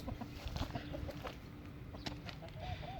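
Free-roaming chickens cluck softly at a distance against a busy outdoor background, with a few brief clucks rising through the steady ambient noise.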